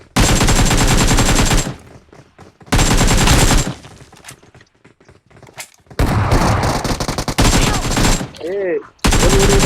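Bursts of rapid automatic gunfire from a video game, loud and close, separated by short quieter gaps with a few electronic effect sounds.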